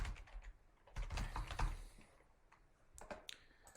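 Quick bursts of keystrokes on a computer keyboard, clustered clicks in two short runs with a pause between, close and fairly quiet with no talk.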